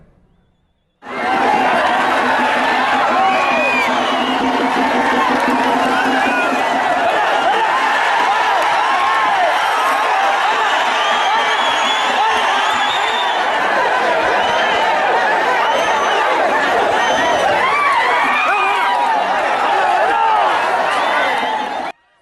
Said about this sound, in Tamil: துள்ளி குதித்து வெளியே வரும் காளைகளை பார்த்து கிராம மக்கள் கைத்தட்டி மகிழ்ச்சியை வெளிப்படுத்தினர்